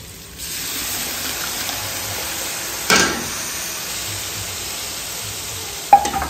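Masala paste with red chilli fries in a pan for chicken karahi, giving a steady quiet sizzle with a couple of sharp utensil knocks and scrapes against the pan.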